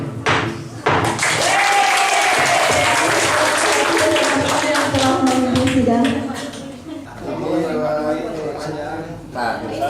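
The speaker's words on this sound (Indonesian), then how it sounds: "tepuk tangan buat Kang Jojo dan Kang Yudi" An audience at an alumni gathering applauds with loud, sustained clapping that fades in the last few seconds, while a voice speaks over it through a PA system.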